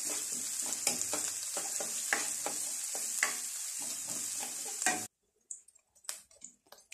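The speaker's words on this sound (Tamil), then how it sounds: "வெங்காயத்தை நல்லா வதக்கிக்கலாம்." Onions frying and being stirred in a pan, a steady loud sizzle with repeated scraping strokes of a spoon for about five seconds, then the sizzle cuts away to a few quieter clinks and scrapes.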